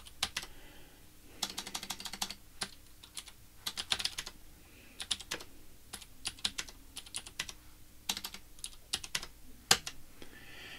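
Quiet typing on a computer keyboard while setting up a Vim editor config: bursts of light, close key clicks in an uneven rhythm with short pauses between them.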